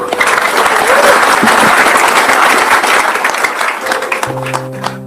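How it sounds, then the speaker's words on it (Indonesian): An audience at a religious talk and reflection gathering claps loudly and continuously, a dense round of applause that fades slightly near the end as a voice begins speaking. "Tepuk tangan sekali lagi ya."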